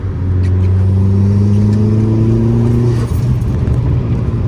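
A Dodge SRT-4 Neon with an aftermarket exhaust revs under light throttle. The loud, close engine note climbs smoothly with a deep exhaust drone, then settles back toward idle with a burbling rumble.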